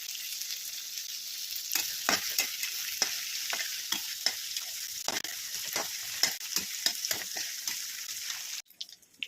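Sweet potato pieces fry in a pan with a constant sizzling hiss, broken by repeated scraping stir strokes at an irregular pace. The sound stays close, with no talking, and cuts off abruptly near the end.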